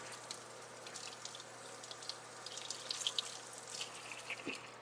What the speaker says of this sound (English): and then drench the paper towel